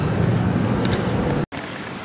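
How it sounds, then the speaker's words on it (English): Heavy rain pours down outside a campus track building, a dense steady roar that briefly cuts out for a split second before resuming. "it's pouring outside right now"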